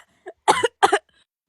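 Two sharp coughs in quick succession from someone on an online call, close up, preceded by a tiny throat noise, then silence.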